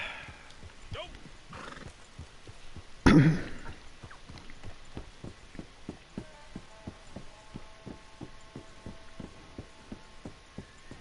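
A horse in Red Dead Redemption 2 Online gives a sharp, loud whinny, then its hooves clip-clop in a steady walking rhythm over a low hum, with people talking quietly underneath.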